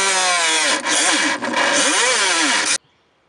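A power cutting tool, likely a rotary cutter or saw, whines loudly and steadily as it slices off the fill neck of a Mazda MX6's radiator overflow tank, dipping briefly twice before stopping abruptly into near silence.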